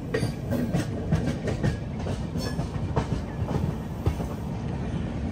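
A train rolling along the rails with a rhythmic clickety-clack and steady rumble, heard from on board, without speech.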